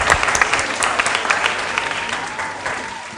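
Studio audience at a school quiz competition applauding, a steady dense patter of claps that starts strong and gradually thins toward the end.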